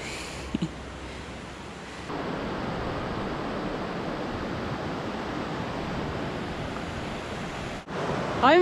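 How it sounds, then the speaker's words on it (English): Steady, full-bodied roar of the East Lyn River rushing on Exmoor, continuous and close, swelling louder after the first couple of seconds with no voices. "we're following the roaring East Lyn River"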